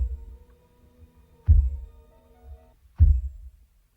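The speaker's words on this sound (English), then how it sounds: "It's like a heartbeat." Two deep, thudding heartbeat-like pulses sound at an even interval over a low droning hum in a death metal song, each thump loud and booming.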